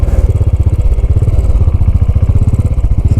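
A Royal Enfield 535 Continental GT motorcycle engine runs close by with a loud, rapid, throbbing beat that stays steady throughout.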